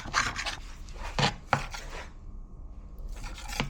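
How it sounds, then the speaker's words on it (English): Four rashers of bacon are chopped with a knife on a kitchen board, a few crisp thudding cuts spaced irregularly, close and fairly loud, with quieter scraping and rubbing in between. "you've got 4 rashers and you're just going to chop it up"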